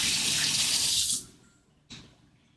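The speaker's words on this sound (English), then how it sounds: "a little hand wash" Hand washing under a running tap in a home kitchen: a steady broadband rush of water for about a second, then cut off, with a brief short splash near the end.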